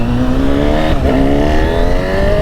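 Retuned 2017 Fireblade inline-four in a 2025 Honda CB1000SP motorcycle, accelerating hard with a loud, smooth, rising engine note and a brief dip in pitch partway through, as if changing gear, then climbing again.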